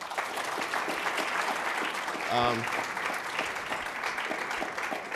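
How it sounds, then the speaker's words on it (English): Audience applause fills a talk event, a steady wash of clapping throughout with a brief tonal blip midway and a slight swell near the middle. "Give him a round of applause for that"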